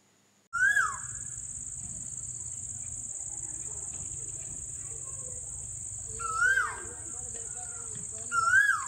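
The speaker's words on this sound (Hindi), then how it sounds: "कोयल की आवाज़ सुनेगी," An Asian koel calls three times outdoors, each call a short sliding whistle, heard over a constant, loud, high insect trill and low background hum.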